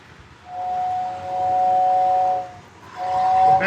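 A model turbine locomotive toy train runs with a steady, high whistling whine that holds for about two seconds, drops away briefly, then returns over a soft mechanical rumble.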